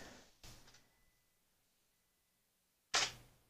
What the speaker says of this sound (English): We'll take a shot just to make sure we're okay.